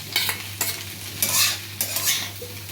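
Roasted dry fruits being stirred into poha in a pan for a fasting-day snack: several loud, rhythmic scraping strokes of a spatula over a soft frying sizzle, with no talking.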